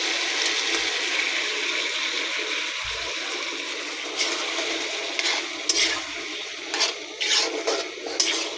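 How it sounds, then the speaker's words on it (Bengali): Dry pasta and noodles tip into a cooking pot, giving a steady rushing, watery hiss that gives way to a run of uneven clattering bursts toward the end. "পাস্তাগুলো ঢেলে দিচ্ছি, নুডলস আর পাস্তা বেটে আছে।"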